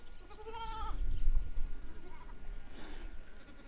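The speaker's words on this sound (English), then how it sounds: "so many baby sheep." A lamb bleats high and wavering nearby in YongTai Fortress Village, China, and a second shorter bleat follows a moment later over low background rumble.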